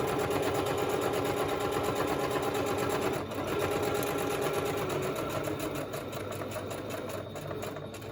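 Sewing machine stitching through paper with brown thread, running steadily and loudly for the whole stretch with a continuous rapid mechanical whir, a brief dip near the middle, no talk.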